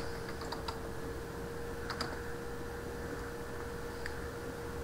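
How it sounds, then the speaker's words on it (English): Typing on a computer keyboard, a few quiet close key clicks in short bursts over a steady background hum. "I'm going to type TeamViewer."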